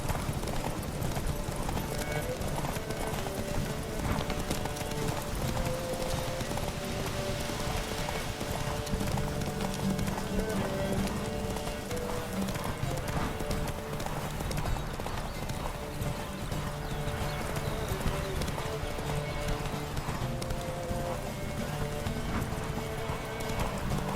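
The horse Roach gallops in a video game, a fast, continuous drumming of hooves close by for the whole stretch, with occasional snorts and game sounds underneath.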